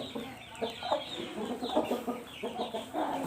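A hen clucks close by in a series of short, uneven calls, soft and chattery, with brief pauses between bursts against a quiet background.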